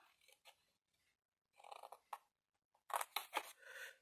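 Scissors snip paper box tabs in short, close bursts, several crisp cuts separated by quiet pauses, with a final longer run of snipping, no voices present.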